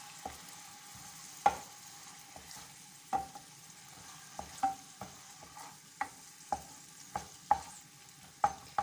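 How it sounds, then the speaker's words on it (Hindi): Ginger and garlic paste frying in a pan for a green omelet, stirred with a spoon: a soft background sizzle broken by about a dozen crisp scraping clicks at irregular intervals, close and fairly quiet. "अब हम ये मिक्स कर लें अदरक को"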